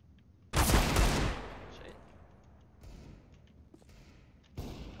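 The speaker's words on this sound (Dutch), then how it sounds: "Dat was een mooie one tap, ik hoorde twee schoten." Desert Eagle pistol shots in Counter-Strike: Global Offensive, a loud sharp burst near the start that decays into a rumbling tail, followed by a quieter thud and another short report near the end, with no speech.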